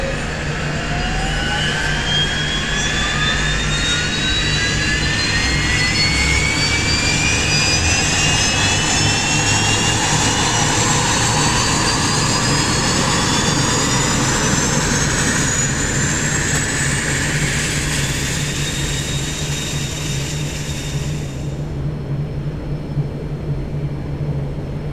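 A Dash Q400 turboprop's number one engine spools up in the X-Plane 10 flight simulator, its whine climbing steadily in pitch over a constant low rumble before the sound cuts off abruptly near the end.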